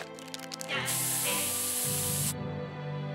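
A pepper spray can in the South Park Stick of Truth video game lets out one loud, steady hiss lasting about a second and a half, set over a sustained musical drone.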